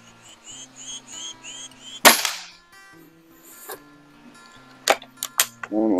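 A BSA Supersport MkII Carbine air rifle fires a single sharp, close crack that decays quickly. A few fainter clicks and taps follow over a quiet background.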